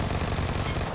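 Rapid bursts of gunfire in a PUBG Mobile match, ending in headshots, with dense rapid-fire shots packed tightly together, loud and continuous over intense game music.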